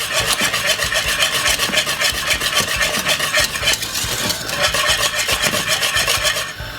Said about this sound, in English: You just keep whisking it, and you don't want it to be getting lumpy